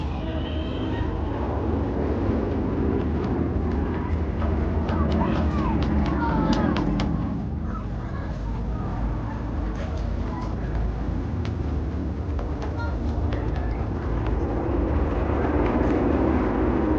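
Red formation team aircraft passing high overhead at the Warbirds Over Wanaka airshow, a steady, sustained engine roar throughout with a commentator speaking over it.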